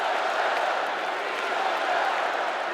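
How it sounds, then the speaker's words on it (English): A convention crowd gives Joe Biden a standing ovation, a dense, continuous wash of clapping and cheering that stays even and full throughout, with no clear single voices. "The crowd gave him a standing ovation that lasted nearly 5 minutes."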